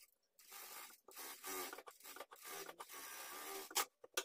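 A sewing machine stitches lining to the main fabric of a cap sleeve, running in steady whirring, clattering bursts with short stops between runs, close and clear.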